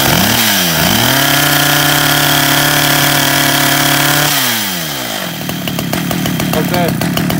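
Stihl chainsaw engine revved loud and close, rising sharply, holding a steady high whine, then dropping back to a rattling idle with a choppy, uneven rhythm.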